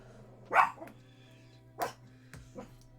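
Dogs bark indoors in a few separate bursts, one loud bark followed by a couple of softer ones, over a steady low hum.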